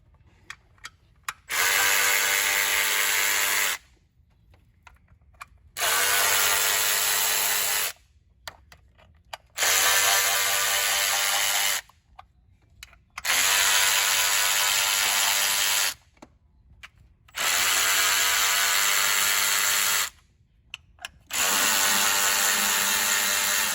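Ratchet wrench loosening 8mm bolts on a 3.6 Pentastar V6 oil cooler housing, heard as six loud, close bursts of rapid clicking, each lasting about two to four seconds, separated by short quiet pauses.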